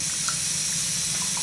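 A tap runs steadily into a sink as goat blood is washed under it for a fried dish. The close, even hiss of water continues without a break and no one speaks.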